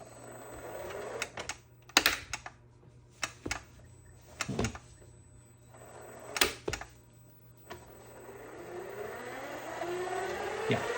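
A Ryobi 50-foot drain auger is handled and then run at low speed, with sharp clicks and knocks of the tool first, followed by a rising motor whir that builds steadily toward the end.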